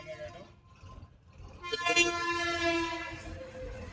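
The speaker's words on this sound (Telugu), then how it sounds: "ట్రైన్ పోతుంది" A passing train sounds its horn in a loud, sustained blare midway through at a level crossing gate, over a low rumble of moving traffic.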